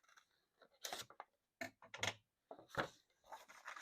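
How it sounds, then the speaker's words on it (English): Hand-torn paper for an Easter rabbit craft gives short, crisp ripping bursts in quick irregular strokes, close and fairly quiet, with pauses between tears. "I like the way this paper is tearing."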